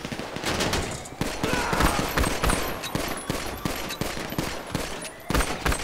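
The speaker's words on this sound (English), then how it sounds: "Oh my god, I'm getting shot at." Rapid, dense gunfire during a Diamond Casino heist shootout in GTA 5, loud overlapping bursts of automatic shots and sharp single cracks continuing throughout without letup.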